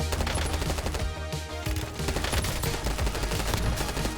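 Rapid SMG fire from the Warzone video game rattles out in loud, continuous bursts with dense overlapping shots and no pauses.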